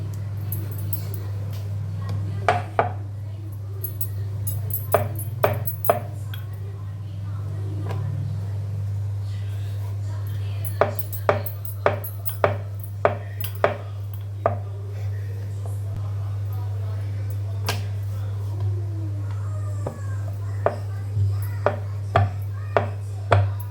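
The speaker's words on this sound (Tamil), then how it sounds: "மேலே இந்த பார்லி மாவே கொஞ்சோண்டு தூவி விட்டு உருட்டிக்கலாம்." Barley flour chapati dough being rolled thin with a rolling pin on a board, scattered knocking and tapping clicks over a steady low electrical hum.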